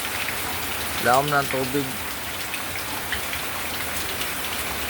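Steady rain falls throughout on a flooded morning street, a constant hiss of drops on surfaces, with a voice speaking briefly near the start.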